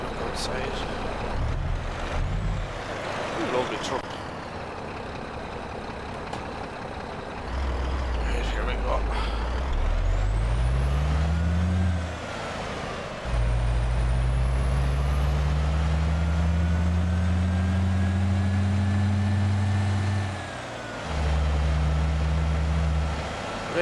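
A heavy truck engine in Euro Truck Simulator 2 drones and climbs through several gears, its pitch rising and dropping with each shift, with a hiss of air brakes and steady cab noise.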